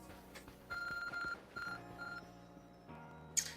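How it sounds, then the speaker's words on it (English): The ARC phone in Pokemon Legends: Arceus gives off a string of electronic beeps and chirpy tones over soft game music, ending with a bright high blip. "The ARC phone is beeping."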